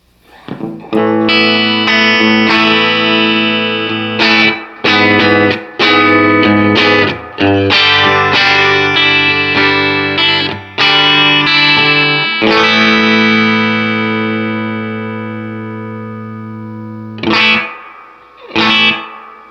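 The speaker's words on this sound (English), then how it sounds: "Reverb only on the Space Echo." Electric guitar played through a 1968 Fender Super Reverb amplifier with reverb from a Roland RE-201 Space Echo: loud sustained chords and picked notes, a long decaying tail, then two brief strums near the end.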